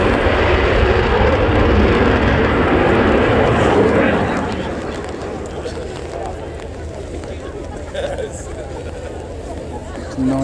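A Spanish Air Force Eurofighter EF2000 jet roars loudly at an airshow, then fades to a softer, more distant rumble while people chat nearby.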